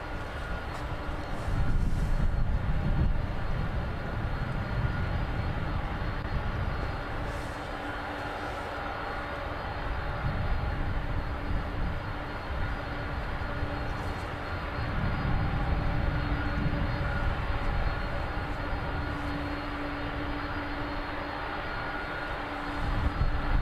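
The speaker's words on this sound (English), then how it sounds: "Pan around and catch the arrival of the Jet 2 now." A Jet2 airliner arriving at East Midlands Airport at sunset, heard as a steady, distant engine roar with broad rumble that holds throughout, swelling and easing slightly.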